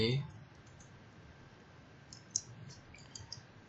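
A handful of faint, sparse keystrokes as a short terminal command is typed on a computer keyboard, the light clicks bunched near the end over a low, steady background hum.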